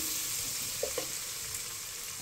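Onion frying in a pan for a sayadieh fish and rice dish, a soft steady sizzle with a couple of small pops, fairly faint and without voices.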